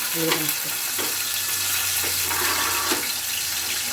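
Cumin, mustard seeds and chopped onions frying in hot oil, a steady sizzle with a few sharp pops and stirring scrapes, close and moderately loud, no voices.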